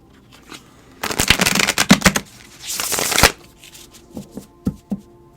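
A large tarot deck being shuffled by hand, with two bursts of dense riffling crackle followed by a few soft taps of the cards settling, close and clear with no talk.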